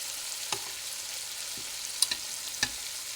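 Steak pieces brown in a frying pan, a faint steady sizzle with a few sharp scraping clicks from turning the meat, quiet and close, no voices.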